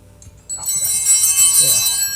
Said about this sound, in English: Those are the bells that we hear during Mass.